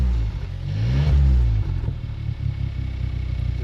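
A Volkswagen Scirocco 1.4 TSI fitted with a Scorpion exhaust gives one short, close rev that swells and falls back, then settles into a low burbling idle.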